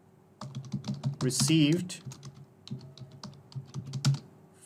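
Clicky computer keyboard typing in quick bursts while an email subject is entered in a Google Forms setup, keys close and crisp, running under a person talking.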